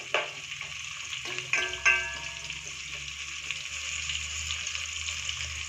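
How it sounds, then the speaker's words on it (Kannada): Sliced onions fry with salt in a pan for veg donne biryani, giving a steady soft sizzle with a few sharp clinks and scrapes near the start. "ಈರುಳ್ಳಿನೂ ಕೂಡ ಫ್ರೈ ಮಾಡಬೇಕು"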